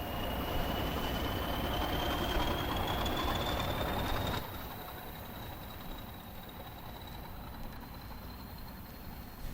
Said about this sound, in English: The diesel loco now passes Higham Church on its way to Hoo Junction.